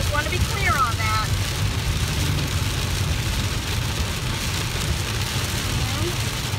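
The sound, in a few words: rain falling during a storm in Texas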